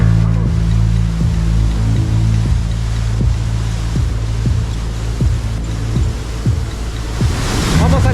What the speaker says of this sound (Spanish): Vamos al interior de la cascada.